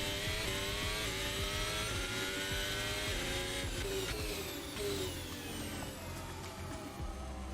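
Formula Hybrid 2022 race car in Assetto Corsa, a buzzing high-revving engine climbing and shifting through gears, loud and continuous with no talk over it.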